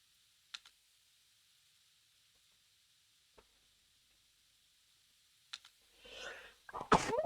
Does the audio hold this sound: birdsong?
no